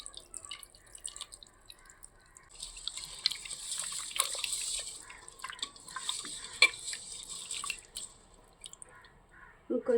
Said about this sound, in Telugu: ఇప్పుడు ఈ చింతపండు గుజ్జుని చేప ముక్కలల్లో పోస్తాను